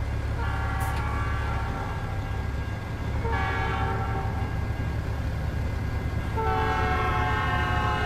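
In American Truck Simulator, a train rumbles past in Louisiana and sounds its horn in three long blasts over a constant heavy roar.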